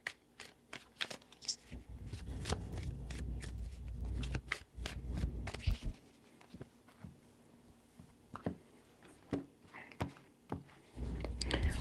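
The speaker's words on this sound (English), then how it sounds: "Three shuffles." A deck of tarot cards shuffled by hand in repeated close bursts of crisp flicking and riffling, with short pauses and soft handling noise between them.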